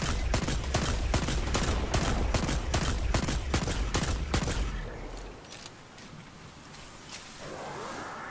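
Rapid gunfire from a weapon in Destiny 2, about a dozen sharp shots in a steady burst for nearly five seconds, then a quieter rumbling tail with faint game ambience.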